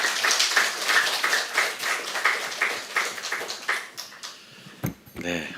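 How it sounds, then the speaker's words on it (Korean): A church congregation at an autumn revival worship service claps to welcome the guest preacher. The dense, rhythmic clapping fills the room for about four seconds, then fades as a voice begins speaking. "강사님 나오실 때 크게 박수로 환영해 주시겠습니다"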